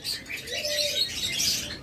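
A cockatiel pair chirps in quick, high, scattered notes, close by and fairly clear, with a faint lower coo-like tone underneath.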